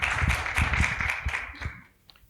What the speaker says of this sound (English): Let's give her a big round of applause as they come through